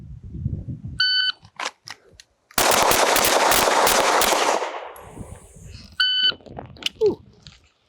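A sharp electronic shot-timer beep sounds, followed by a rapid burst of five loud pistol shots drawn and fired in quick succession at a pistol qualification stage, then another beep and scattered quieter noises.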